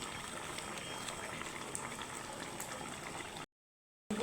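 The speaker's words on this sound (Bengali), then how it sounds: "একটু ফুটিয়ে নিব পাঁচ মিনিটের মতো আমি ফুটিয়ে নিব" Pointed gourd curry bubbles steadily in a pan, a soft continuous simmering patter close by, before briefly cutting to silence and returning.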